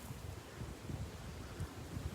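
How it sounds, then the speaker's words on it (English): Steady low rumbling wind buffeting a microphone outdoors by the River Nene, continuous gusty noise with no voices. "really windy today. I bet you can hear it on that camera"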